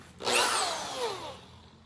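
An electric drill spins up as a handmade jig shapes a small wooden dowel, a close, loud whirring burst lasting about a second that then tapers off into quiet.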